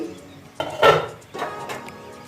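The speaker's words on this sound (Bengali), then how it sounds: "দু মিনিট পরে আমি ঢাকনাটা তুলে নিচ্ছি" Metal lid lifted off a pot of spinach softening in water, a couple of clinks and scrapes of metal against the rim, close and brief.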